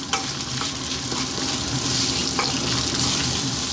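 Bay leaf and chopped onion fry steadily in a pan over lively heat, a continuous close hiss with faint stirring clicks throughout and no voices.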